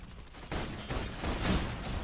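Sustained burst of suppression gunfire in the video game Love & Deepspace, a dense, continuous rattle of shots that swells partway through and holds steady, loud and close.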